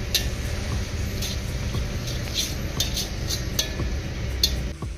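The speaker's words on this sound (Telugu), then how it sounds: "ఈ కస్తూరి మేతిని నలిపి వేసుకోవాలి. మొత్తం ఒకసారి కలుపుకుందాం." A spoon clinks and scrapes against a pot while chicken biryani masala is stirred together with crushed dried kasuri methi leaves, with a steady run of light metallic taps and soft mixing close by and no talk.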